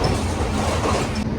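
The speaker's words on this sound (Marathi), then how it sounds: "पुणा स्टेशनवरून निघाली आहे गाडी आपली" The Mahalaxmi Express, running Mumbai to Kolhapur, pulls out of Pune station with a loud, steady rolling rumble of wheels and carriages, no voices, briefly dipping near the end.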